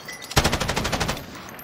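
Rapid machine-gun fire in the Warzone video game, a loud burst of about a dozen evenly spaced shots after a short lead-in, then tailing off with no talk.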